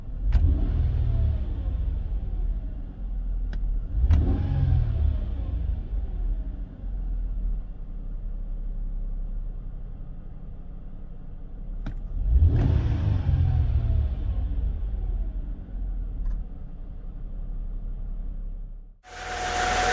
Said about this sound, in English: Just wanted to show you at normal actually temperature how the engine sounds and revs.